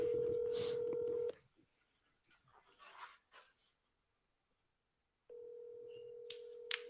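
Telephone tones as a call is placed to someone's mother: a steady electronic tone for over a second, a pause with faint breathing and rustle, then the tone returns with a couple of short high beeps near the end.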